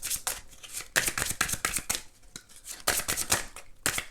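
A deck of playing cards being cut and handled, giving a run of quick crisp snapping and riffling bursts in uneven clusters, close and clear with no talking.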